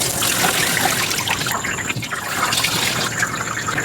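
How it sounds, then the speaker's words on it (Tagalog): Rice for biryani is washed in water, a steady splashing trickle of liquid swirling and pouring nearby, with no voices over it. "Yan, hugasan natin yung bigas ng mga 5 beses."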